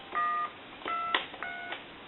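Three steady dual-tone DTMF keypad beeps from a Spirit of St. Louis speakerphone telephone, each lasting about a third of a second, separated by short gaps, with a brief click in between.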